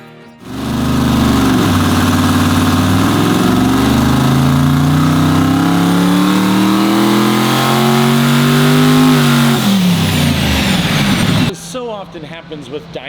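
A car engine runs on a dyno, its loud, close note climbing steadily through the revs for about ten seconds before falling away and cutting off.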